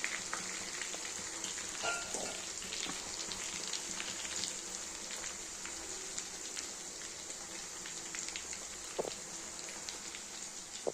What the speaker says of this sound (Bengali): চিকেনগুলো ভাজা হচ্ছে তখন।